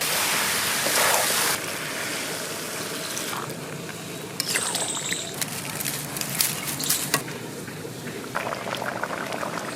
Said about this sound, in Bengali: মাংস কষানো হয়ে গেছে, এবার জল দিয়ে দেবো।